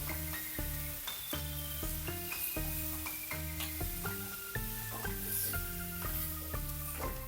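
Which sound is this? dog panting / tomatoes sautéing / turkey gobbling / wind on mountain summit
tomatoes sautéing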